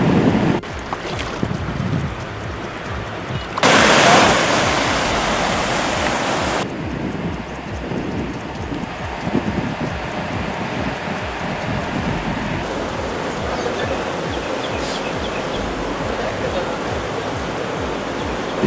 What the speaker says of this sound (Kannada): ಬ್ರಿಡ್ಜ್ ಕೆಂಪ್ ಬ್ಯಾರೇಜ್ನಿಂದ ಭೀಮಾ ನದಿಗೆ 1 ಲಕ್ಷ ಕ್ಯೂಸೆಕ್ ನೀರು ಹೊರಬಿಡಲಾಗ್ತಾ ಇದ್ದು